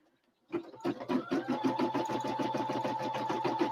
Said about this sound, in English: now let's let it stitch his wing.